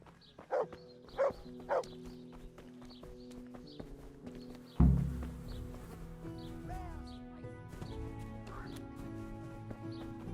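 Dog in the medieval game Kingdom Come Deliverance barks three times in quick succession, fairly close, followed by a heavy thump and a rumbling game ambience with scattered chirps.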